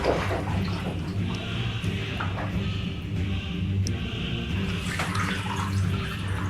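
Hot water runs steadily from a tap in an indoor bathroom, a continuous rushing splash that holds even and fairly close throughout.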